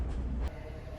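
A Sri Lankan train rumbles in a low, steady drone with a faint rattle of carriages, heard close by for about a second.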